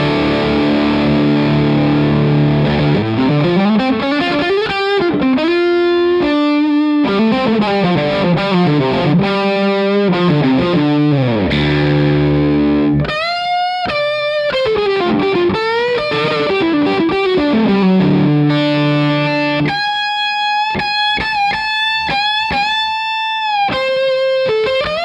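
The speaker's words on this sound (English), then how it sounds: "here comes the Skyrocket with the fuzz side and the boost side engaged" Electric guitar through an Analogwise Skyrocket pedal with both its fuzz and boost sides engaged, playing loud, saturated riffs and sustained chords that shift into brighter, higher bends and held notes, continuous and alone.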